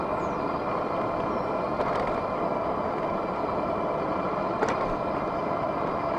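A Fiido T1 Pro electric bike cruising at about 14 mph, its motor giving a steady whine under broad, continuous road and wind noise, with no talking.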